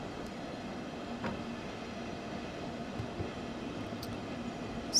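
A steady low rumble of an S-Bahn train running on the Dresden–Riesa line in Train Sim World 2, with faint rail noise and a few soft clicks throughout, moderately quiet, with no voices.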